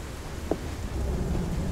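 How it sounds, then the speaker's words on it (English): Rain and a thunder rumble from the Kingdom Hearts 3 video game, with a steady wash of rainfall and a brief low crack near the start, no talking. "Oh gosh, rain."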